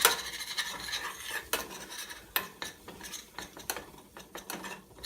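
Flour and butter being stirred together in a pan for a roux, with rapid uneven scraping and tapping of a whisk or spoon against metal, close up, and no voices.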